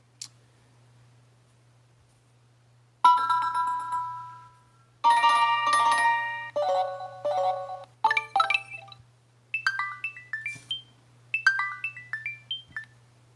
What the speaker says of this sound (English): they sound like ringtones